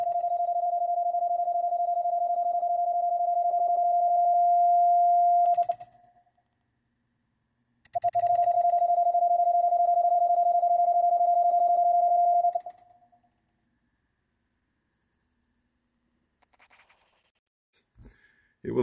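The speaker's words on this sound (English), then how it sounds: "You release a pendulum on a spring here, and it vibrates to create those dots." A semi-automatic Morse code key, its spring-loaded pendulum vibrating to send dots, produces a steady, unbroken tone that runs about five seconds, stops briefly, then sounds again for another five seconds before falling silent, with a faint clack near the end.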